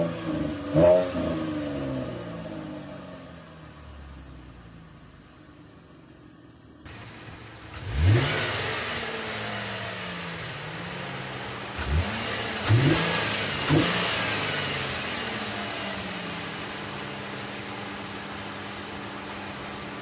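An idling 2013 Chevrolet Camaro RS engine gets a quick blip, then a pause, then several deep revs in a row, each rising and dropping back, loud and nearby.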